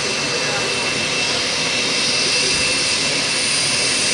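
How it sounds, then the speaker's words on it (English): Pratt & Whitney jet engines on an airliner at the Paris Air Show roar with a broad, steady hissing whine, loud and constant, while a person talks over them. "Those sounds that you hear coming from the engines are pretty standard with the Pratt & Whitney engine."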